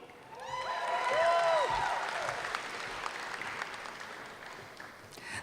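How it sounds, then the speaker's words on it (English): Audience applause at a 2018 university commencement ceremony swells quickly into a sustained roar of clapping from a large crowd in a hall. A brief whistle or cheer sounds near the start, then the applause slowly fades. "It's okay to show your joy and clap for your students"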